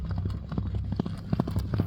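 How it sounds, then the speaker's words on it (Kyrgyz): A purebred horse galloping fast at a village ulak race in Nookat, rapid rhythmic hoofbeats thudding close and loud with a faint hum of voices behind. "Таза кандуу ат экен акыйкатта"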